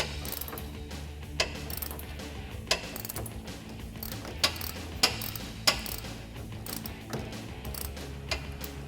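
An 18 mm ratcheting wrench turns a suspension bolt on a Jeep Wrangler JL during a Teraflex 2.5-inch lift install, giving runs of close, crisp ratchet clicks with sharper snaps at irregular intervals over a low mechanical rumble. No one talks.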